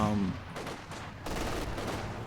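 A Maxim machine gun in a multiplayer strategy game fires rapid bursts in a loud, crackling stream of battle noise, heard under a commentator's voice.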